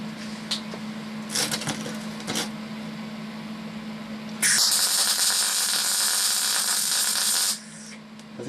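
A MIG welding torch at minimum power gives off a brief hiss and a few soft crackles, then a steady, bright buzzing sizzle of the arc lasting about three seconds before it stops, against a low background hum.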